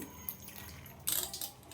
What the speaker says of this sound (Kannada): ನೀರೆಲ್ಲ ಹಾಕಿ ತೊಳ್ಕೊತೀನಿ